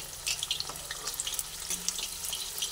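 Besan-coated stuffed flat beans frying in a pan give a steady, fairly quiet crackling sizzle with scattered bright pops, alone without talk.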